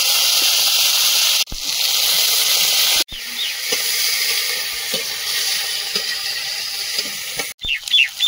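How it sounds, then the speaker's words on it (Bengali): Bitter gourd frying in hot oil in a home kitchen pan: a loud, steady close hiss broken by a few brief gaps, with faint clinks near the end. "উচ্ছেগুলো ভেজে নেব।"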